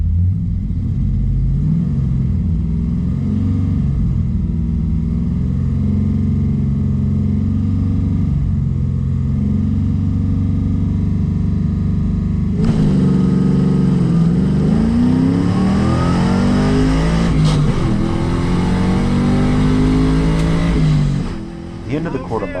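A Pontiac Trans Am on a quarter-mile drag strip holds a loud, steady rumbling idle at about 2,700 RPM, then launches and revs hard through rising engine tones before easing off near the end. Talk is heard over the engine.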